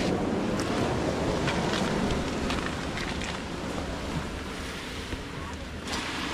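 Waves wash and break steadily onto a beach made entirely of small shells rather than sand, with a continuous loud surf roar and wind buffeting the microphone throughout.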